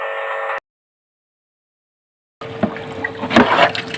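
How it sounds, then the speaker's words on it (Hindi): Water poured during dishwashing at home: a short burst of sound, about two seconds of silence, then splashing and clattering water that grows louder toward the end. "जैसे पानी डाल रही हूँ, धुलाई कर रही हूँ"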